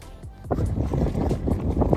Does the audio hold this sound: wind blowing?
yes